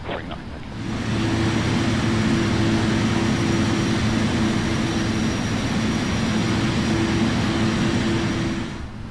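EVA Air jet airliner engines spooling up for takeoff in the Prepar3D flight simulator, a loud, steady roar with a sustained low drone that swells in, holds, then fades at the end.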